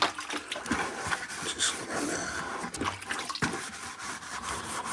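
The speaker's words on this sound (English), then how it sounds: "Just get water on my hand." A hand swishes and rubs water around the inside walls of a bucket used for drywall mud during ceiling taping; close, continuous sloshing and splashing with no pauses.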